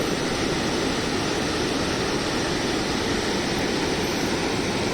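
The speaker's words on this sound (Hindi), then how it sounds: "ये देखिए क्या ज़बरदस्त तरीके से बह रही है।" The Sharda river at Purnagiri in Uttarakhand rushes fast, a loud, steady, broadband roar of flowing water that stays unchanged throughout with no voices.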